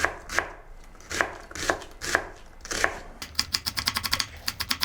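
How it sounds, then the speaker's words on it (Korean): A knife chops an onion on a cutting board for a sausage-roll sauce: a few slow, sharp, evenly spaced chops, then a quicker run of rapid taps, close and crisp with no voices. "전 양파를 좀 좋아하는 편이니까 좀 큼직큼직하게 잘라도 문제가 없지만"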